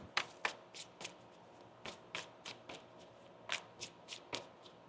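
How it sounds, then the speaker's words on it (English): Tarot cards being shuffled in a series of crisp riffling bursts, about a dozen quick rustles spaced unevenly, close and fairly quiet, with no talking. "One more shuffle."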